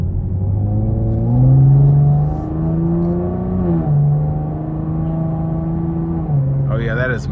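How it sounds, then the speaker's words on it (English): A 2023 Chevy Camaro 3.6 V6 in sport mode rumbles steadily from inside the cabin, its exhaust note rising and falling as it accelerates through several gear changes over a few seconds. "I was about to say don't get the performance exhaust because it sounds just like the older Camaro"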